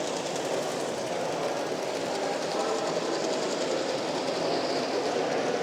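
An OO gauge model train runs around a small 6x4 layout at a model railway show, a quiet, continuous rolling hum with faint clicking of wheels on track.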